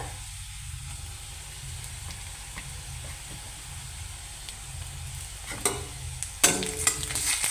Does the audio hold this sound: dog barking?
no